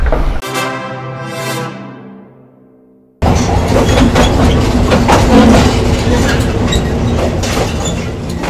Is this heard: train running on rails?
yes